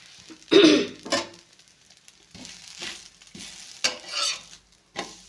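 Dosa batter sizzles on a hot pan rubbed with onion, close by, in short irregular bursts of hiss and scraping with quiet gaps between them.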